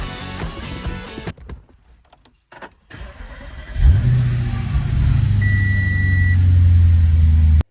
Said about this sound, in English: I could jump inside the car and start up the engine.